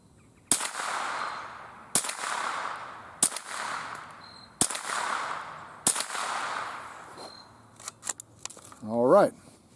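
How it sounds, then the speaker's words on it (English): Five sharp, loud cracks from a Marlin Model 60 .22 rifle firing CCI Blazer rounds outdoors, spaced roughly a second apart, each with a short echoing tail, followed by faint clicks and a brief voice. "That's 5 shots each. Looks like the gun's working flawlessly."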